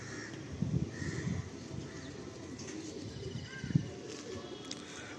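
Kalpara Kaldum pigeons in an old Kolkata loft give soft, faint coos, two low pulses standing out against a quiet background hiss.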